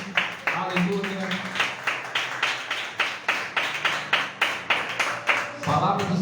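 A church congregation claps at a worship service, about fifteen rhythmic, evenly spaced claps in a steady beat, with a voice speaking briefly at the start and end.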